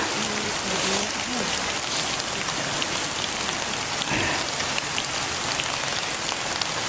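Heavy rain pours down steadily, a loud, continuous hiss of drops hammering surfaces with a rushing, stream-like texture, while voices briefly talk beneath the downpour.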